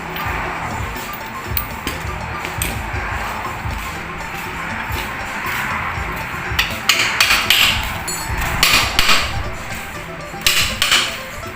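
Metal-on-metal hammer blows knocking out a part during suspension repair on an Isuzu D-Max, a series of sharp irregular strikes growing louder and denser in the second half over workshop background noise.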